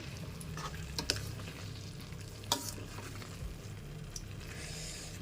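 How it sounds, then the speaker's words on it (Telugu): Spoon stirring boiled egg curry with coriander in a pan, a soft sizzle with a few scraping clinks, faint and close. "కొత్తిమీర వేసుకుని అలా ఒకసారి తిప్పుకుంటాము"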